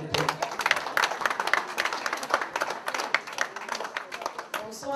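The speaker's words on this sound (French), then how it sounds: "Applaudissez-la, s'il vous plaît." At a Paris gala dinner, guests applaud the president in a scattered patter of individual hand claps, fairly close, uneven and thinning toward the end.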